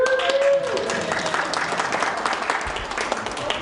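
A humanist assembly audience breaks into applause, a dense wash of clapping that starts under a brief spoken word and carries steadily to the end.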